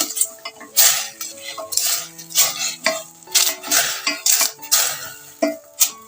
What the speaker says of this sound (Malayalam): ഇനി ഇത് അങ്ങോട്ടും ഇങ്ങോട്ടും ഒന്ന് ഇളക്കി കൊടുക്കാം